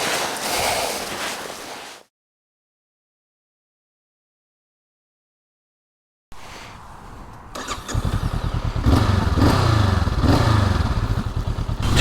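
A 2023 Honda CL500 Scrambler motorcycle starts up after a silent gap, then rides with a steady mid-pitched engine drone that swells louder and stays close for several seconds.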